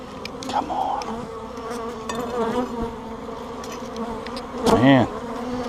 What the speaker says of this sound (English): there's more bees in there than I thought there ever would have been this early in the year